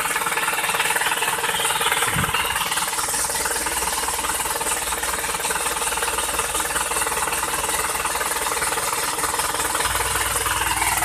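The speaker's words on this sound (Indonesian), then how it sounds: "kita ngidupin mesin" Isuzu Panther Touring 2.5 turbo diesel engine running steadily with a loud, continuous clattering knock and a high, hissy mechanical drone, close up, without voices.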